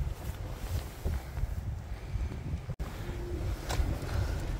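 Steady wind buffeting a microphone outdoors on a fishing trip, a continuous low rumble with gusty swells that fills the whole stretch, loud and close, with no talking.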